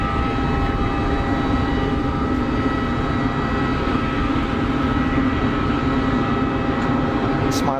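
Emirates Boeing 777 taxiing toward the runway 04 holding point at Geneva Airport, a steady broadband jet engine roar with faint whine, constant throughout with light talk over it.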